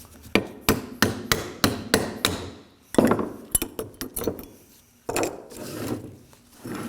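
Metal tool tapping on rusted front brake parts of a 2016-2020 Kia Sorento, a steady series of sharp, resonant knocks followed by scattered clinks and scraping, close and loud with no talk.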